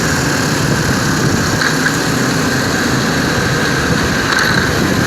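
A motorbike engine while riding across Saigon makes a loud, steady drone mixed with rushing road and wind noise, unbroken for several seconds, with no talking.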